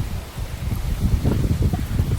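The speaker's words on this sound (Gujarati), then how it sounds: "તો આ પવનને તો તમે જોઈ શકો છો કેવો ફૂલ આવે છે" Strong wind blows outdoors before rain, a close, gusty rumble of microphone buffeting with a rustling texture that swells and eases over a couple of seconds.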